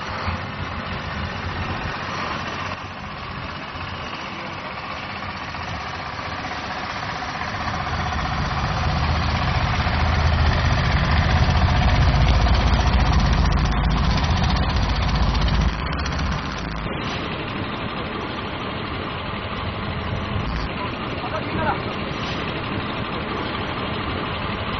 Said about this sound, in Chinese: 发动机器，发动机器出击。